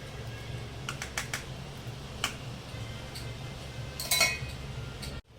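A spoon mixes sugar into mango pulp for ras puri, giving scattered sharp clinks and taps against a bowl, a cluster of louder scraping knocks near the end, then a sudden drop to near silence.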